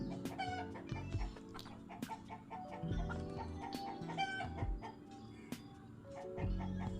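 Hens on a farm cluck in a steady stream of short, repeated calls, fairly close and busy, with a few sharper squawks standing out over the flock's chatter.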